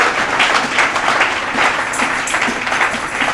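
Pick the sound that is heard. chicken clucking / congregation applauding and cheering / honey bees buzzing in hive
congregation applauding and cheering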